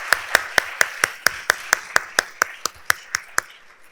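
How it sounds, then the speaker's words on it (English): Applause for the organizer at a meeting on PANDAS/PANS, heard as about fifteen sharp, evenly spaced claps from one or a few pairs of hands, crisp and fairly near in a quiet room. "I think we should give her applause."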